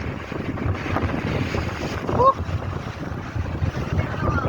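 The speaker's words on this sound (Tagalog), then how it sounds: "Hoy, mahangin!" Wind gusts buffet the microphone in a constant rushing rumble by the sea on the rocky shore at Shek O, with a brief high whistle-like call partway through.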